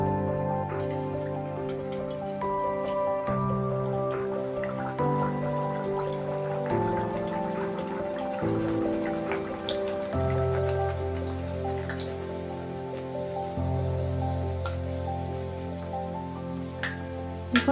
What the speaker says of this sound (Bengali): এবার আমি কচুরিগুলো ভেজে নেব